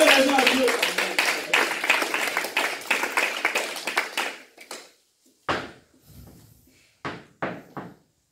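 A church congregation claps together in praise of Jesus: steady, loud rhythmic clapping for about four seconds, then a few scattered, fading claps alone.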